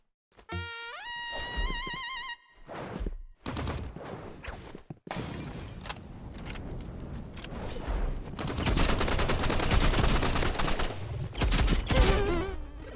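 Energy pistols fire in the video game Marvel Rivals in dense, rapid volleys. Bright electronic zaps and bursts mix with game effects and grow louder and more continuous toward the end.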